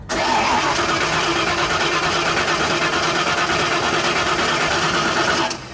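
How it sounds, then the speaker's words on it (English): A crash-damaged car engine cranks and catches, then runs with a loud, steady rattling idle that continues close up and alone before cutting off abruptly. "So it sounds like it just used some convincing and it'll start back up."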